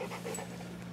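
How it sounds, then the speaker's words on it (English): A dog pants rapidly and steadily up close, with a continuous low hum beneath, in a garage during steering part replacement on a 1989 GMC 3+3 pickup. "I've got the dog licking the back of my neck"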